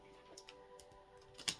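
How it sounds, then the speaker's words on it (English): Tarot cards are shuffled by hand, giving a few faint, scattered soft ticks and riffles with a slightly sharper snap near the end, alone in a quiet room. "I'm going to shuffle just one more time"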